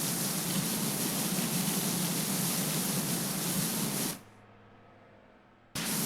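A power washer in the PowerWash Simulator 2 game sprays with a loud, steady hiss, cuts off abruptly for about a second and a half, then bursts back on.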